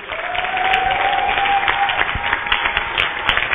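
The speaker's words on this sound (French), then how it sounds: "Acclamez pour lui. Non, acclame bien pour Dieu." A church congregation clapping loudly and steadily with sustained rhythmic applause, a faint whistle-like tone and scattered voices mixed in, the sound close and full throughout.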